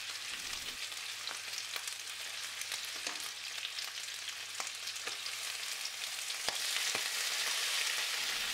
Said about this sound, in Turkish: 5-10 dakika arası tavuk inciklerimi kızartıyorum